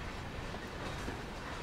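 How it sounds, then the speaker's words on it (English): A Class 66 freight train in Train Sim World rolls over yard points with a dense, steady rumble and faint clatter of wheels, continuous throughout. "So obviously we're just getting the entire train past all these points into the yard."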